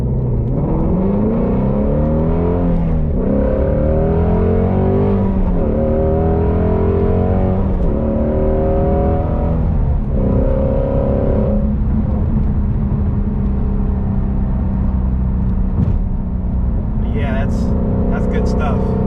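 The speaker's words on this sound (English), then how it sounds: "Can't beat the sound of a flat plane crank V8." A Ford Mustang Shelby GT350's naturally aspirated flat-plane-crank V8 revs repeatedly through rising and falling sweeps, loud and close, with a steady engine drone beneath and a voice talking over parts of it.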